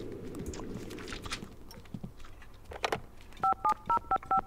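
Phone dialing in The Sims 2 video game: a quick run of about five electronic keypad tones, evenly spaced and clear, following soft game ambience and scattered clicks.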